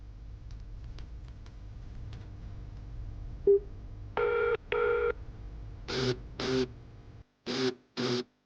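A telephone call rings out unanswered: after a few faint clicks, pairs of short electronic ringing tones repeat at a steady pace, clear and alone.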